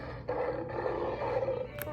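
A lion roar played back from a toddler's electronic sound book toy with 100 animal sounds, a steady rasping growl lasting about two seconds at moderate, even loudness with no other sounds over it.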